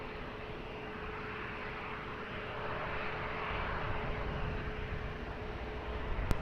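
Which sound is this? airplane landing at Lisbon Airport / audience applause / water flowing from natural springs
airplane landing at Lisbon Airport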